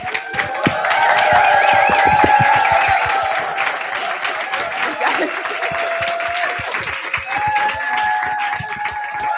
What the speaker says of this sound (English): I would like you to give a warm applause to the candidates.